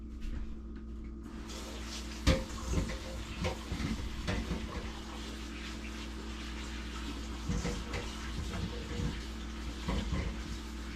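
Potatoes washed under a running kitchen tap before going into beef stew: steady, moderately loud water flow with scattered splashes and knocks as they are handled, over a constant low hum, with no talk.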